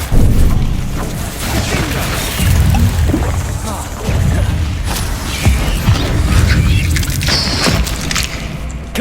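Spell explosions from Bombarda and other combat spells in Hogwarts Legacy on PS5, during a trial fight: repeated low booms and crashes, loud and dense, over continuous battle noise and music.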